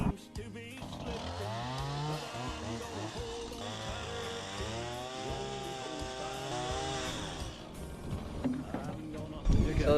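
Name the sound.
chainsaw cutting barn lumber beams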